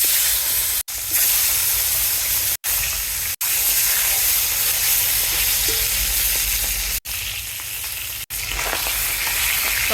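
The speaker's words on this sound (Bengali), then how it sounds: "সবগুলি মাছ ভেজে নিলাম, নামিয়ে ফেলবো" Koi fish fry in oil on a clay stove, making a loud, continuous hiss and crackle close by, cut by a few abrupt brief silences, with no one speaking.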